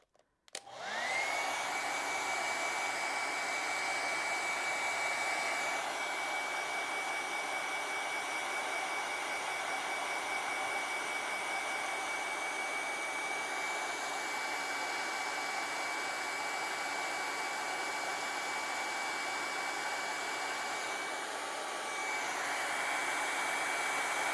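A hair dryer starts abruptly and blows a constant, steady whine and rushing airflow over acrylic paint on a bird painting, running uninterrupted for more than twenty seconds.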